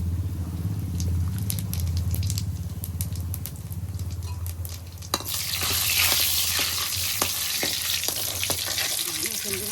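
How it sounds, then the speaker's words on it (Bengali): Dried red chillies, bay leaf and cumin hit hot oil for a dal tempering. A sharp sizzle bursts up midway, with scraping and clinking before and after. Faint voices sit low underneath. "এই শুকনো লঙ্কা আর তেজপাতা, জিরে দিয়ে দিলাম আমি এখন"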